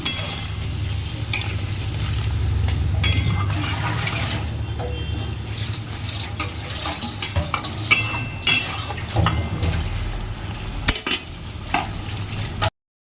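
Hot water poured into a frying Bengali fish curry with potato, raw banana, ridge gourd and lentil dumplings, the pan sizzling steadily while a spoon stirs and scrapes, with a few sharp clinks of metal near the end.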